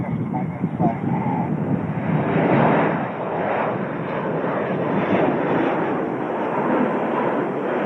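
Airplanes passing overhead during a night film shoot in New Zealand, a broad continuous engine roar that swells and stays loud throughout, with some wind buffeting on the microphone.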